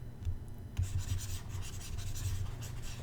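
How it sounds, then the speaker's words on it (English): An eraser rubs writing off a board during a trigonometry lesson, a steady scratchy scrubbing that begins abruptly and continues with brief rhythmic strokes, fairly close and alone. "Let me erase this one."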